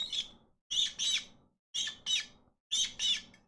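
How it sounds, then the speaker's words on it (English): A water bottle lid squeaks in high, chirpy, bird-like bursts, heard as three close pairs of squawks separated by short silences. "that's the sound of my water bottle's lid."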